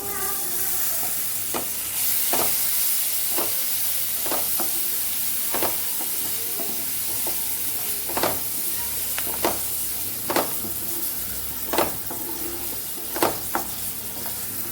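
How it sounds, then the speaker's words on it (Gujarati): Frozen peas sauté in spice masala in a pan for samosa filling, under a steady sizzle broken by soft scraping and stirring knocks at irregular intervals. "મસાલા સાથે આપણે વટાણાને સાતળી લીધા છે"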